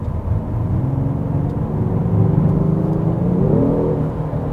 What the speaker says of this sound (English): Let me just put it on to enhanced and let you hear it.